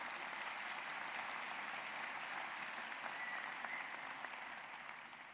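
A graduation ceremony audience applauds in a steady, dense wash of clapping that carries on at an even level and starts to fade at the very end.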